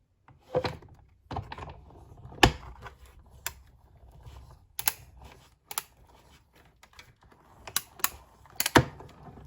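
Scissors snip a small piece out of paper, a string of sharp, close clicks and crisp cuts coming in irregular bursts with quiet gaps between them.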